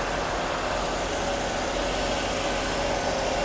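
A Mercedes W126 300SEL engine idles during a test run after a fuel distributor overhaul, making a steady, close, broadband hum with a low rumble underneath and no voices.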